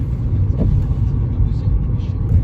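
Car interior drone while driving home on a muddy spring road, a steady low engine and road rumble running throughout, close and constant, with faint background voices.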